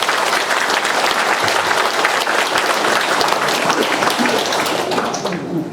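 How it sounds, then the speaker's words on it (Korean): Sustained applause from an audience, a dense wash of clapping that fades slightly at the end. "이분들한테 박수를 한번 드립니다"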